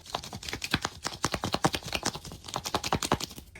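A sealed blind-box mini food capsule is shaken quickly, producing a rapid run of light rattling clicks and taps from loosely packed contents inside. The rattling is steady and close, with no voices.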